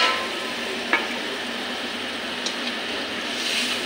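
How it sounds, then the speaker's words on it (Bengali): Small fish frying with tomato and spices in a pan, a steady close sizzle with a few faint clicks of a stirring spoon. "ঝুলটা মাছে আর টমেটোর সঙ্গে মশলাটা মিশিয়ে নিই।"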